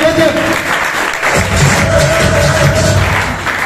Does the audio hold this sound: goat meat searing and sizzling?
no